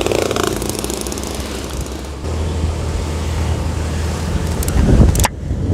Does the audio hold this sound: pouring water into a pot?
no